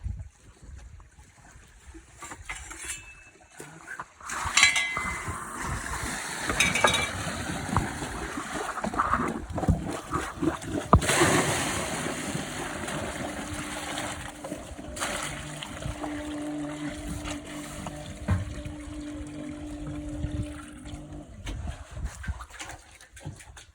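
Water is pumped into a sandy borehole during hydro-drilling, making a sustained rushing, splashing wash that swells and fades irregularly, with scattered knocks from nearby equipment and no clear talk.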